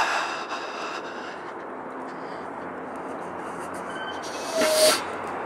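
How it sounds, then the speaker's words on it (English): Railway points squeak briefly with a thin metallic screech near the end, over a low rumbling hiss of an approaching train in an open evening setting. "we have a train coming, because that squeaking bit was the points changing"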